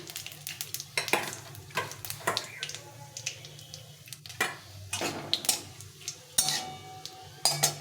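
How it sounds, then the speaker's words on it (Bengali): Food frying in a pan on the stove, a soft sizzle broken by repeated clattering stirs and scrapes of a utensil against the metal, close and fairly quiet, with no talking. "এটাকে একটু হালকা করে ভেজে নিতে হবে একটু লাল করে ভেজে নিই"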